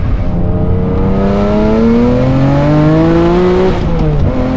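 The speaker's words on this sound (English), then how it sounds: "let's hear this supercharger sing" A loud supercharged BMW E46 M3 engine revs hard toward 8,000 RPM, its whining pitch climbing steadily through the gears of a 6-speed manual before dropping off sharply near the end.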